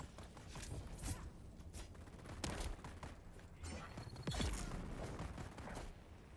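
Gunshots in the game Dune: Awakening, a quiet scattered string of cracks and bursts mixed with mechanical creaks and clanks at moderate distance, under low background sound.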